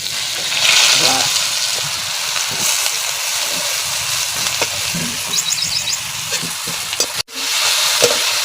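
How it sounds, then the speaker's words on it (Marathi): Onion roasting in a pan in a rural Maharashtrian kitchen, a steady bright sizzle with scraping stirring strokes, a short clatter near the end, and faint talk in the background. "कांदा भाजून घ्यायचा."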